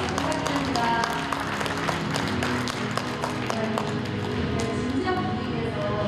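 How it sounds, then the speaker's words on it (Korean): Steady audience applause at a Samsung Lions baseball event, a dense, continuous patter of many hands clapping at close range, with voices mixed into the crowd noise throughout. "네, 여러분 박수 부탁드립니다."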